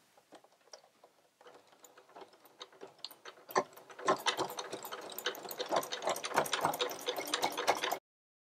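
A sewing machine runs a straight stitch at 2.4 stitch length with white thread, making rapid mechanical ticking. It starts with short sparse bursts, then settles into a louder continuous run of stitching, close and alone.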